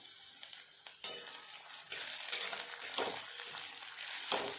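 Chopped tomatoes cook in a pan for a brinjal curry, giving a steady close sizzle with intermittent stirring scrapes and a few sharper bursts of frying noise.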